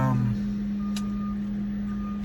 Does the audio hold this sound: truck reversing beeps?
yes